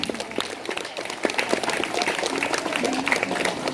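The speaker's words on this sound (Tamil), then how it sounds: "கைத்தட்டி ஊக்கப்படுத்தவும்." Crowd clapping steadily at a school sports event during a 100-metre race, a dense patter of many hands applauding together, fairly close.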